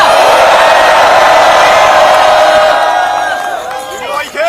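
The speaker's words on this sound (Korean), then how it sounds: "여러분 다시 한번 큰 박수와 함성을 부탁드립니다" Large crowd at a candlelight protest rally in Korea applauding and cheering loudly, a dense roar of shouts and clapping that holds strong before tapering off near the end.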